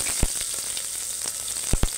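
Chopped onion crackles and sizzles steadily in hot oil already tempered with mustard seeds and cumin for moong dal khichdi, with a few sharper pops over the continuous frying hiss.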